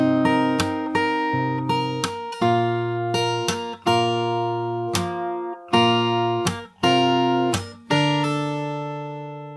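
A solo fingerstyle guitar plays a chorus section of a song, a steady run of plucked notes and chords ringing clearly with no talking.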